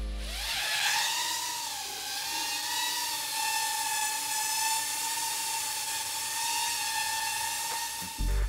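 A SpeedyBee Master 3x FPV drone hovers nearby, its props making a steady high-pitched whirring drone with a brief rise as it spins up, then an abrupt cutoff near the end.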